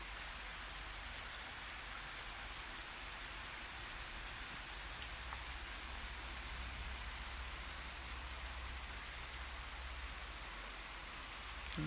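Steady morning rain falls in a village, a soft, even patter of drops on surfaces that holds without pause and sounds fairly faint and distant.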